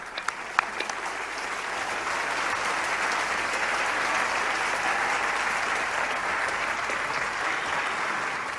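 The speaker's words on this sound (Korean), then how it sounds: "여러분, 다시 한번 감사의 박수로 참 어머님을 모시도록 하겠습니다." Audience applause at a large commemorative festival gathering, beginning with a few scattered claps and swelling into steady, full clapping from a big crowd that holds to the end.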